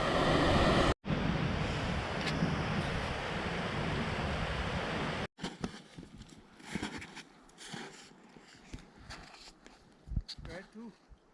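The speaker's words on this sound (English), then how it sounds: "So let's see this beautiful waterfall" Mountain waterfall on a Deo Tibba expedition, a dense roaring rush heard loud and close for several seconds, then cut away to quieter outdoor sounds with scattered knocks and voices.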